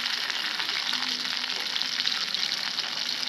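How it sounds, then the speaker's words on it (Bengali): Garlic fries in hot oil in a wok, a dense, steady sizzling hiss that stays loud and even throughout, with no voices. "এখন রসুনটা একটু ভেজে নেব।"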